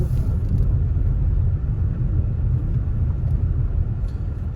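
Street traffic in Montego Bay, heard as a loud, continuous low rumble of engines and tyres close by, with no clear individual horn or voice standing out.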